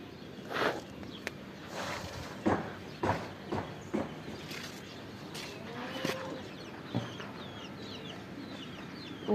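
A chicken clucks in scattered short calls outdoors near a rooftop garden, faint and somewhat distant, with soft footsteps or scuffs between them.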